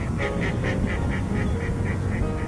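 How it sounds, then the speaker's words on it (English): Steady series of raspy quacks from a female mallard duck, about ten in a regular rhythm, close and clear over a busy background of other birds and ambient noise. "Male and female mallards make different sounds. When you hear quacking,"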